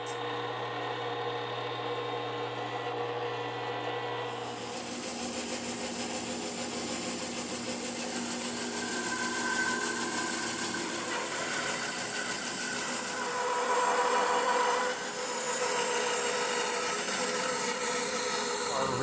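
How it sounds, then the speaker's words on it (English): A bandsaw resaws rosewood into fingerboard blanks, a steady, close, continuous cutting drone that holds for about fifteen seconds after a quieter start, with no talking. "Our resawing went quite well. Awesome rosewood."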